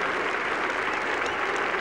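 A Yorkshire cricket crowd roars steadily as the home batsman brings up his 200 during a 1981 Ashes Test. The broad, sustained mass of cheering and clapping is heard from a distance.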